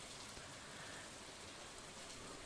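Steady, soft patter of rain from the Stardew Valley farming game, a continuous even hiss of falling drops with no voices, holding constant throughout at low volume.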